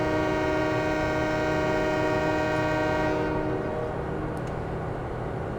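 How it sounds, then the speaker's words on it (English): A locomotive in Farming Simulator 17 on a logging map rolls along steadily with a long, loud horn blast held for several seconds before fading into continuous rail rumble, with no voices. "I'm gonna drive the train then."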